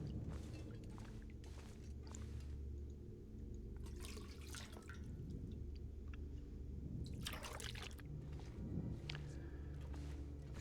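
Water in the survival game The Long Dark, heard as intermittent splashing and trickling bursts over a low steady background hum, with no voices.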